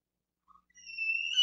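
Imitated bull elk roundup bugle made with a call: a faint brief note, then a rising, sustained high whistling tone that grows louder and ends in a sharp burst, with no talking.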